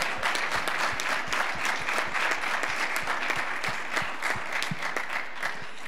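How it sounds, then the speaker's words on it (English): Steady, even applause from a lecture audience thanking designer Laura Long after her talk, a full room of hands clapping continuously at moderate loudness with no talking over it. "I'm going to ask for one more round of applause for Laura."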